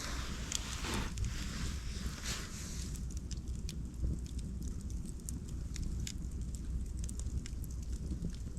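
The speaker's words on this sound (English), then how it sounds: "Still makes for a good fire, eh?" Outdoor campfire burning steadily, a continuous soft roar of flame with scattered crackles and pops throughout, close and moderately loud, with light wind noise underneath.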